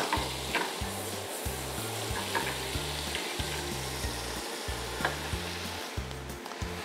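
A syrup of port wine, butter and sugar bubbles and sizzles steadily in a pan as it reduces, a continuous close crackle with soft pops and no talking.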